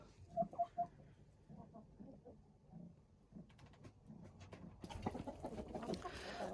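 Roosters and hens in a divided yard make a quick run of three sharp clucks at the start, followed by softer scattered clucking and shuffling, faint and somewhat distant, with rising background noise near the end.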